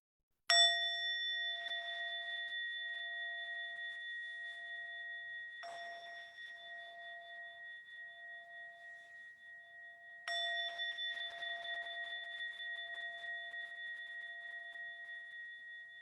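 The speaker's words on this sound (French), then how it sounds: "Alors je vais sonner 3 sons de cloche." Three meditation bell strikes ring out alone in quiet, each a clear metallic ding with a long shimmering sustain, the second softer, spaced several seconds apart.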